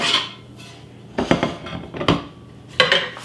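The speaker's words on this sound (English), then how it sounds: "Now let's see what these lids go to." Metal Caraway cookware lids handled and set onto pots, giving several separate clattering clinks and knocks spaced over a few seconds, close and fairly loud with quieter handling between.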